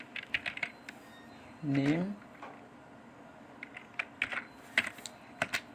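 Keys clatter on a computer keyboard as a name is typed into a Microsoft Word document, scattered clicks coming in short bursts, with a brief voice speaking partway through.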